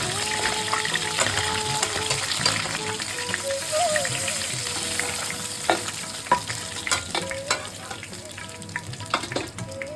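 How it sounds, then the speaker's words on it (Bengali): Bhetki fish bones fry in mustard oil with a steady close sizzle and crackle, broken by scrapes and knocks as the pieces are stirred and turned, with no talk. "মাছগুলোকে কিন্তু একটু কড়া করে উল্টে পাল্টে খেতে হবে।"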